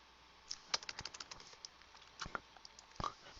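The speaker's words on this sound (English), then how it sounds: "So let's just type in a 0 for the." A computer keyboard tapped in quick scattered bursts at a grade-calculator demo, light close clicks with pauses between runs, no talking.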